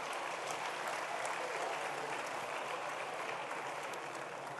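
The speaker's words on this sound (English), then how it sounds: "A round of applause for them, ladies and gentlemen" An audience applauding at a formal commemorative event honouring the Tambo family, a continuous wash of clapping heard at a distance and fairly quiet, with no speech over it.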